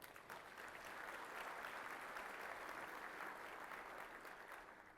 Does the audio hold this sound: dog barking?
no